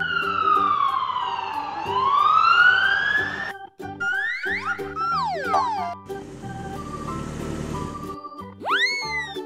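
A toy police car plays its electronic siren close by: looping wailing sweeps, then sharp descending chirps and a burst of noisy static, ending with another rising whoop.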